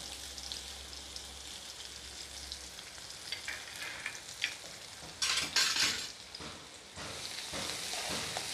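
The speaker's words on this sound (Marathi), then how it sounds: "बारीक कापून ठेवलेले कांदे आता याच्यात टाकते मी." Chopped onions and green chillies sizzle and fry in a pan, a steady crackling hiss with occasional stirring scrapes and a louder burst of spattering midway, no voices.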